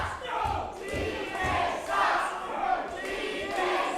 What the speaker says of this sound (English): this crowd in Nanaimo getting on the case of TJ Harley here